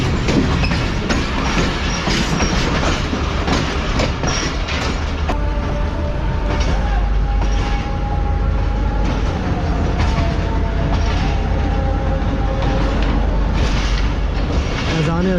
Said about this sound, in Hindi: ये हैदराबाद आउटर पर हमारी मुलाकात हुई है एक डाउन फ्रेट ट्रेन से